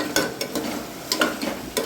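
Spoon or spatula scraping and knocking in a pan as mutton is stirred with mutton masala while frying, a few distinct clinks and scrapes spaced irregularly over a soft sizzle, close by and fairly quiet.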